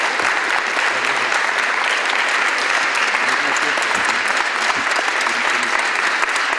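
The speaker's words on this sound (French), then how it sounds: "Applaudissements." A town hall audience applauds Emma Bronchain at a municipal tribute, a dense, steady round of clapping from many hands that carries on evenly for the whole stretch.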